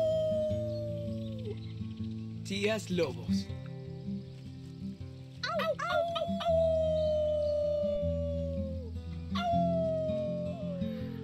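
Several voices in a Life is Strange 2 game scene imitate a wolf pack, rising and falling howls in long sustained tones with short yips between them, backed by low music, with brief talk among the howls.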